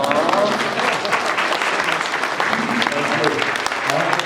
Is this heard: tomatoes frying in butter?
no